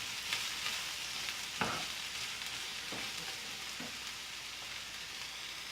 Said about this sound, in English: And fry the onions until they turn dark brown in color.